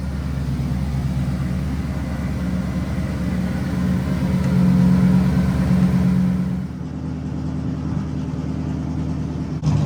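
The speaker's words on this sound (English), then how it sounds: "Car's idling, it's sucking down water." A car engine idles steadily in a garage while its cooling system is being bled and refilled with coolant, a low, even rumble that swells briefly before settling back down.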